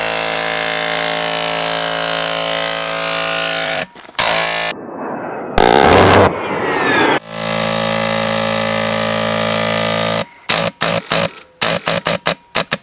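Polar Star pneumatic airsoft gun firing continuously as a loud, dense buzzing stream of shots, broken by pauses and then sputtering into short irregular bursts as the air supply runs out.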